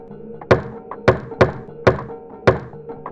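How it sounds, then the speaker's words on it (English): A secret knock on the door of room 204 in the video game Galerians: five hollow, resonant wooden thuds in an uneven rhythm, each ringing briefly, with soft game ambience humming beneath. "So you go to room 204, you do the knock."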